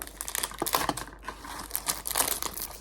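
Plastic packaging torn and unzipped open, crinkling and crackling in quick close bursts with sharp rustles throughout, loud and nearby with no talking.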